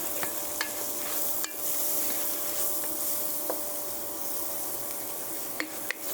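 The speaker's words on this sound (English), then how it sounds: "we're going to give that a stir" Kashmiri korma stirred in a pan, a soft continuous sizzle with a few light scraping taps of the spoon against the pan, close and steady with no voices.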